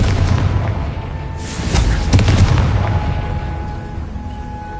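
A Confringo fire spell exploding in the game Hogwarts Legacy, giving a pair of deep booming blasts with crackling bursts about two seconds apart, ringing out over a low background rumble.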